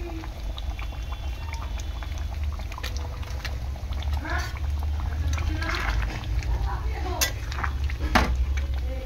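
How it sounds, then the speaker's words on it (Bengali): Mutton curry bubbling in a pot as it is stirred, a steady low boil with scattered spoon scrapes and metallic clinks against the pot, close and fairly loud. "তো সব জায়গায় ভালো করে ঘেটে দেবো যাতে পুরো মাটনটাই মিশে যায়।"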